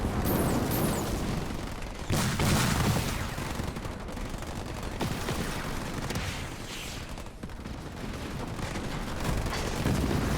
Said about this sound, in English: And now the snipers are really opening up on that Chosen.